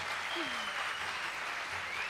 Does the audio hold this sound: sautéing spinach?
no